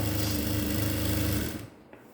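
A sewing machine stitches a straight seam on ladies' pants, whirring loudly and steadily up close for about a second and a half before winding down to a stop.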